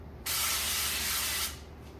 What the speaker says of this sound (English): I'm going to spray it with spray oil